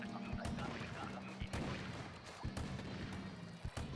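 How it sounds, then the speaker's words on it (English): A cannon fires repeatedly in Splatoon 2's Salmon Run mode: sharp, booming bursts at irregular intervals over a dense, busy bed of game noise. "All right, I guess I'll take this cannon."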